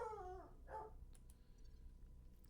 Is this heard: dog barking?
yes